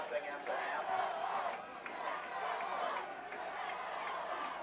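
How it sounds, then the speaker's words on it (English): Crowd noise fills Mount Union Stadium during a 1985 college football game, a steady roar of many voices carrying through the whole stretch at moderate level. "Boy, you can hear the crowd here at Mont Union Stadium."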